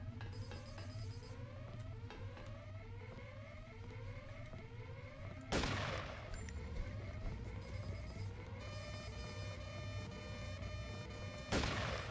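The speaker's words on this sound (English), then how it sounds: "let's use our sniper rifle to kill this camera so that it can stop viewing us" Two loud, sharp sniper rifle shots, several seconds apart, fired at a security camera in the video game Deus Ex: Revision, over a steady droning alarm and game ambience.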